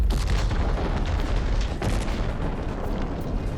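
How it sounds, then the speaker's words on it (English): A massive fireball explosion after a traffic accident in the sci-fi video game The Ascent, smashing a building to rubble: a dense, continuous rumbling boom with heavy low-end crashes and scattered sharp bursts throughout. "a traffic accident which sent a massive fireball explosion smashing a building to rubble in the background"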